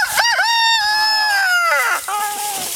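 Chickens in a chicken house give a loud, drawn-out, crowing-like call that rises and falls over a couple of seconds, close by.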